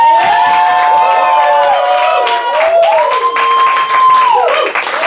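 A crowd of audience members claps and yells loudly to vote in a battle contest, a steady dense roar of applause and cheering with a high whistle-like tone gliding through it.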